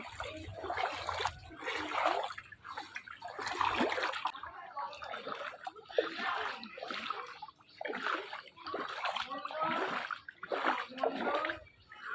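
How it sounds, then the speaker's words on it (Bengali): Feet wade and splash through shallow floodwater around a home, with repeated sloshing steps close by and some trickling between them, and the splashes come in irregular bursts. "জলে পা দেখো কতটা জল"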